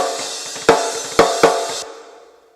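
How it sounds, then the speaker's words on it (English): Unprocessed snare drum in a mixing session, three sharp hits over a bright sustained wash of cymbal and mic bleed that cuts off and then decays away, close and clear with no speech. "this is a snare as it sits."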